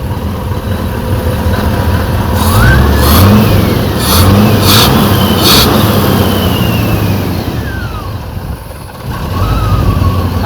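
A Rover SD1 engine, running again after ten years of sitting, idles steadily and is blipped through several quick revs that rise and fall, close by and loud with no talking.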